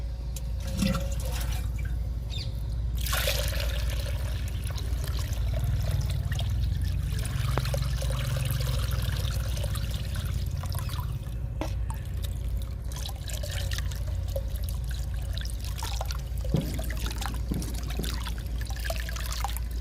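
Steady trickling and splashing of diluted chickpea-cake liquid fertilizer being poured and strained, continuous and close, with occasional drips and light clinks.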